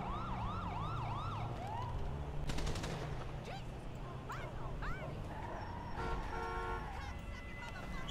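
A police car siren wails in a GTA 5 roleplay video game, its rising and falling tones repeating over a busy game soundscape with engine rumble and bursts of other noise.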